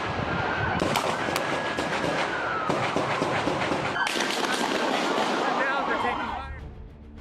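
Sharp gunshots crack repeatedly, in irregular bursts, during a police shootout, over a steady siren-like wail and radio chatter, loud and close.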